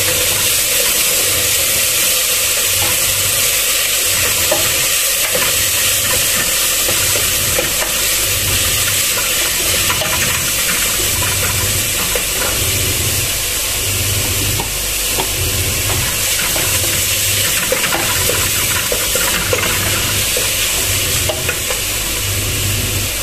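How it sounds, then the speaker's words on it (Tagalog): Onions fry in a pan with a splash of water added, giving a constant loud sizzle and hiss with bursts of bubbling and occasional stirring scrapes throughout. "Lalagyan ko po siya ng konting tubig lang para hindi masunog ang sibuyas"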